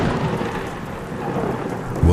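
Heavy rain pours steadily with a low rumble of thunder underneath and a sharp louder crack at the very end, a dense stormy wash as a sound effect in a horror cartoon.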